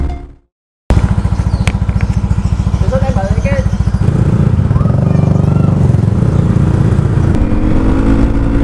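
A Honda ADV motor scooter, modified, drones loudly and continuously up close while riding, its pitch rising as it speeds up, with wind buffeting and a voice talking over it.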